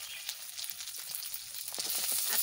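Fish frying in hot oil in a Bengali home kitchen, a steady close sizzle with crackling spits that grows denser and brighter toward the end, no voices.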